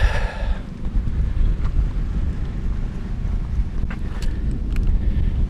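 Wind blows outdoors in a suburban setting, a steady loud low rumble of buffeting against the microphone, continuous throughout with no voices.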